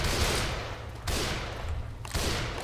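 Gunfire in Left 4 Dead 2 aimed at a clown zombie: continuous bursts of rapid shots, loud and close, with two brief breaks before the firing resumes.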